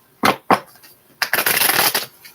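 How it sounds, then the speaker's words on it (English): Two quick riffles of playing cards, then a longer continuous shuffle, close and crisp with no voices. "I'm going to do 4 shuffles and then we begin."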